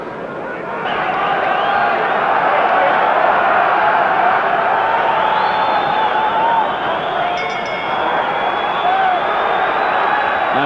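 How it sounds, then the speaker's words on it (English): A huge crowd of thousands of Welsh fans cheers and roars without a break at a title boxing match in the Royal Albert Hall. The broad, loud wall of sound holds steady and swells slightly throughout. "these thousands of Welshmen cheering him on"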